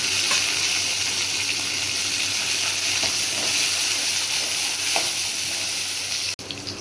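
Cumin seeds and small onions frying in hot oil in a home kitchen for a spicy pepper gravy, giving a steady, close sizzling hiss that runs unbroken before briefly cutting out near the end.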